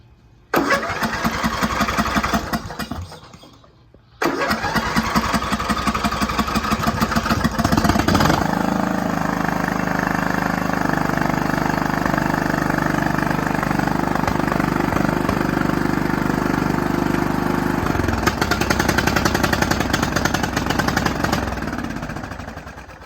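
A 14.5 hp Briggs & Stratton engine on a Toro lawn tractor cranks, stalls for a moment, then catches and runs at a loud, steady idle for about twenty seconds, close by with no talking.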